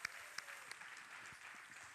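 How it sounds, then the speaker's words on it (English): Audience applause for a troupe of glass blowers at a lecture show, a steady wash of clapping at moderate loudness with a few sharper individual claps, no talking over it. "How about a round of applause?"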